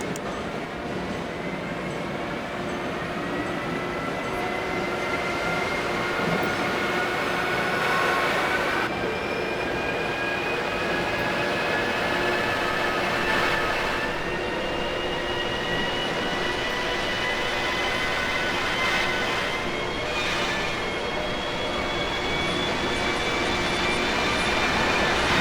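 Train pulling into a station in the Trainz video game, a steady rumbling engine drone with faint rising and falling tonal whines and occasional brief hisses, moderately loud throughout with no talking.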